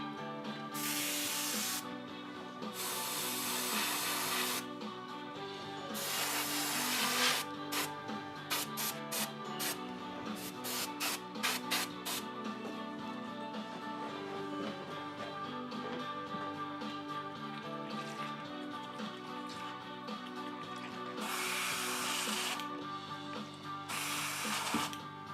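Satin varnish sprays from an aerosol can onto a painted figure in loud hissing bursts, several long blasts and a run of quick short spurts, with soft background music underneath.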